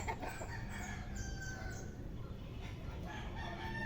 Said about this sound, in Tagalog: Dito naman tayo sa manokan ni Toto.